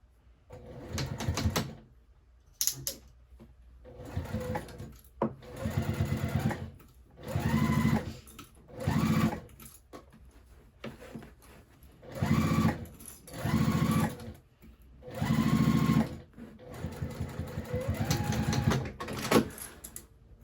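A sewing machine stitches a fabric bag in repeated bursts of fast whirring runs, each lasting a second or two, separated by short pauses, loud and close with no talking.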